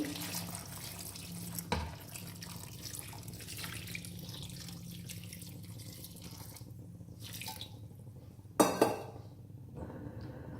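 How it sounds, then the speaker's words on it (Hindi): Water pours from a tap into a pan of chicken masala in a home kitchen, a faint running stream with a couple of clinks of utensils and a louder splash near the end. "और इसके बाद हम इसके अंदर ऐड करेंगे पानी।"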